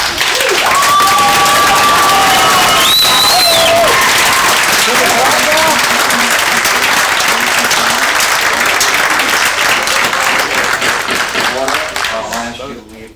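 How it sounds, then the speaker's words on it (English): A council chamber crowd cheers and applauds loudly and steadily after a motion passes, with shouts and voices rising over sustained clapping that fades toward the end. "Mayor Rowe gavelled down the crowd in their cheers"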